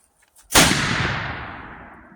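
A matchlock gun loaded with a larger powder charge fires once outdoors. A faint fizz comes before a loud, sharp report, followed by a long rumbling decay that fades over about a second and a half.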